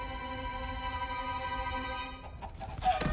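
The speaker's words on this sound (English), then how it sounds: "Oh, it's a chicken." A chicken clucks in the Minecraft Story Mode video game, a brief rising call with a few clucks over a sustained tonal music chord, which cuts off into a noisy rustle at the end.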